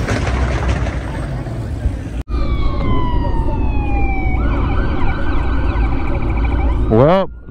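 A police siren wails at night on a Tokyo street after a motorcycle meet, its rising and falling tone sweeping in loudly after a sudden cut, over steady traffic and crowd noise.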